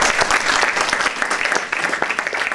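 A church congregation bursts into loud, close applause during a sermon, with sharp, rapid claps from many people forming a dense, energetic roar that stays strong throughout, briefly dipping once before resuming.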